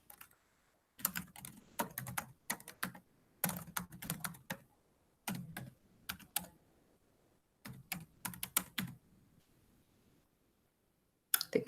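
Quick bursts of typing on a computer keyboard, close and clear, with rapid clicking keystrokes in irregular clusters separated by short pauses.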